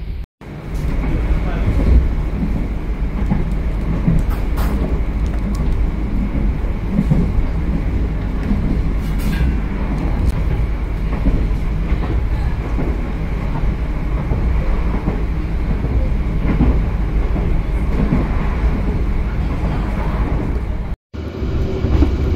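The KA Pandalungan passenger train in Indonesia rumbles steadily along the rails, heard on board, a continuous low roar with faint rhythmic clatter, close and loud throughout, with a brief cut near the end.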